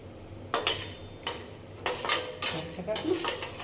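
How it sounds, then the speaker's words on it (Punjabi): Peanuts fry in oil in a pan for poha while a metal spoon stirs them, giving sharp scraping clinks at uneven intervals over a soft background, close and clear. "ਤੇਲ ਦੇ ਵਿੱਚ ਨਾ ਆਪਾਂ ਇਹ ਮੂੰਗਫਲੀਆਂ ਪਾਵਾਂਗੇ ਇਹਨਾਂ ਨੂੰ ਮੂੰਗਫਲੀਆਂ ਨੂੰ ਆਪਾਂ ਚੰਗੀ ਤਰ੍ਹਾਂ ਤਲ ਲਾਂਗੇ"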